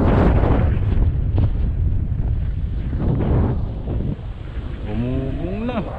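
Strong wind on a fishing outing buffets the microphone with a continuous low roar and rumble, loud throughout, with voices faintly audible underneath.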